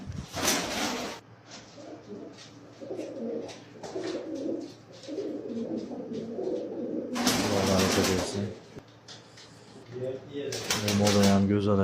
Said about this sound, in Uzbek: Polvon kaptarlar ekan hammasi.